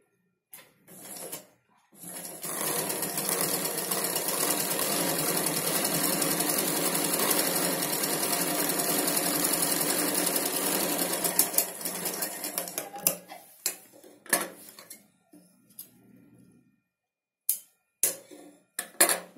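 A sewing machine stitches a straight seam on Punjabi dress pants, running steadily for about ten seconds close up, then slowing into short bursts and pauses with a few clicks.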